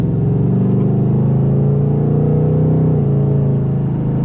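A 2024 Ford Mustang GT Premium's V8 engine drones steadily while driving on a hot summer day, a loud constant low rumble from inside the cabin with no change in pitch and no voices.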